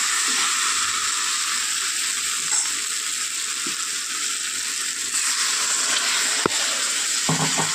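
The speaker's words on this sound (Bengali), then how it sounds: "এবার দিয়ে দেবো জল।" Steady loud frying hiss from masala cooked down in oil for a fish curry of tangra with cauliflower and potato, with water added; one sharp clink near the end and faint utensil scrapes, no talk.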